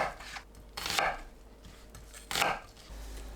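An onion is cut into eight pieces with a knife on a board, two sharp chops standing out among quieter taps.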